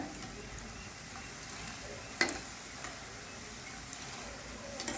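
Boondi batter drops frying in hot oil for boondi laddu, a steady soft sizzle with one sharp tick partway through, and no voices.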